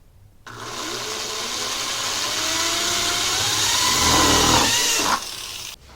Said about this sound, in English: For safety's sake, don't forget to unplug the drill.